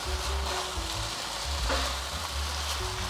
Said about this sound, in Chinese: 炒面、炒米粉我都习惯用筷子这样子翻拌